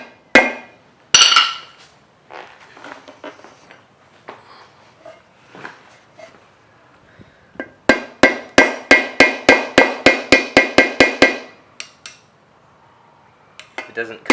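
A hammer strikes a screwdriver to drive a differential part out of a Ford Focus ST during a limited-slip differential install. Scattered metallic clanks and taps come first, then a rapid even run of about a dozen sharp ringing blows, close and loud.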